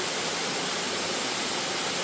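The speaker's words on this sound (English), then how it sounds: "Boy, that's a pretty waterfall. Very pretty waterfall here. Cascade Falls." Cascade Falls in Jefferson National Forest, Virginia, roars as a steady, unbroken rush of falling water, loud and close, with no voices over it.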